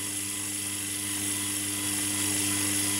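A steady, smooth electrical hum with a high whine from a power inverter runs evenly throughout, close by and constant, with no rattling, vibration or pulsing.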